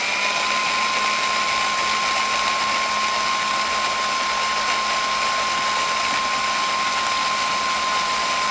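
A power drill bores a hole to thread depth during a Turner Expander 500 restoration, giving a loud, steady whine with a constant pitch and no breaks or voices throughout.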